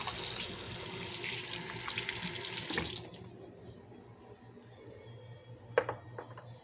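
Tap water runs steadily over black lemons being washed in a kitchen sink, a loud continuous splash for about three seconds that then cuts off, followed by a few light clinks and handling sounds.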